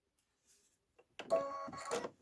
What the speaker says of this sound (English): I'm just going to hold it down, let it start stitching